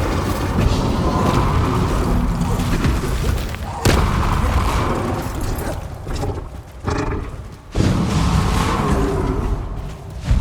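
Confringo fire spell blasts in Hogwarts Legacy land as loud, roaring booms over a continuous rushing, crackling din, with sharp hits at intervals of a few seconds.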